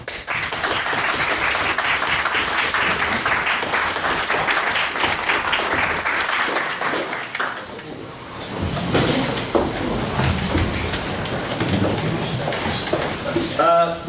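Audience applause at a Halloween debate, loud and sustained with busy clapping through the first half, then a brief dip before a rougher second burst that continues to the end, with some voices mixed in.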